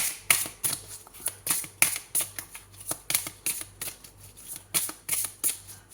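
Tarot cards are shuffled and drawn one after another in a steady run of crisp riffling slaps and flicks, close and fairly loud, with no voice over them.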